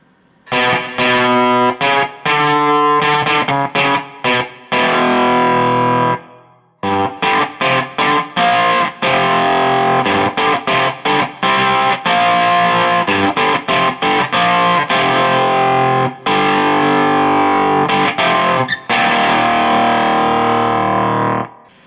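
Distorted electric guitar through a Marshall MG100DFX amp with the noise gate set around one o'clock, played in loud chugging riffs and sustained chords, with sharp gated stops cutting each phrase to silence.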